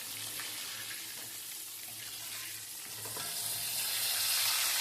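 KFC-style marinated chicken frying in oil makes a soft, continuous sizzle with a faint low hum beneath, swelling slightly louder toward the end; nobody speaks.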